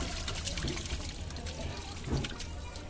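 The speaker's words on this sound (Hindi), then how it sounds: "ये हमारा पानी थोड़ा सा गिर रहा है, यानी यहाँ पर पानी हमारा ब्लॉक हो जा रहा है, रुक जा रहा है" Water pours and trickles steadily from a blocked washing machine drain, a continuous close, moderately loud splashing flow with a brief swell near the end.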